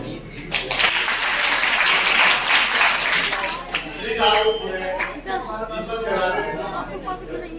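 Applause breaks out for a poet at a school poetry gathering, clapping strongest in the first seconds and fading as chatter and a voice take over the room.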